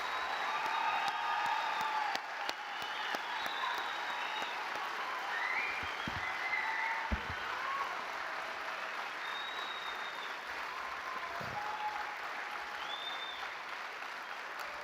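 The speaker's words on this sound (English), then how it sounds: "if we could get all of them a great round of applause." An audience at a basic academy class graduation ceremony gives sustained applause with scattered whoops and cheers rising over the clapping, steady for about fifteen seconds.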